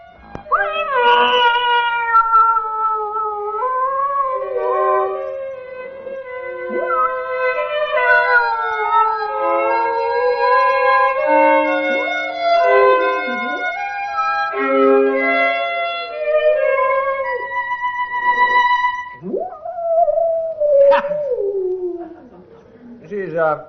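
A cat sound effect made of long, wavering yowls and howls that slide up and down in pitch, loud and sustained for over twenty seconds, ending in a few short rising cries.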